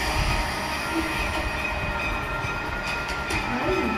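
A train in the Roblox game Dead Rails glitches along, giving a steady rumbling rail drone with faint squealing wheel tones throughout and no voices.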